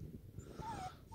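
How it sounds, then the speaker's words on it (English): A dog on a boat heading through narrow tidal creeks toward Blakeney gives a short, high, wavering whine over low engine and water rumble, fairly close and moderately loud. "This whinging dog."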